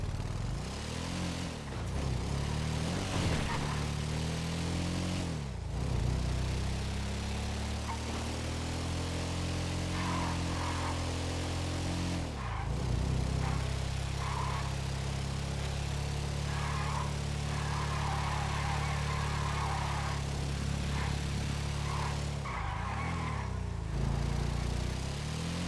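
A motorcycle ridden in a video game, its engine droning steadily with rising and falling pitch as it revs and shifts, loud and continuous with no talk.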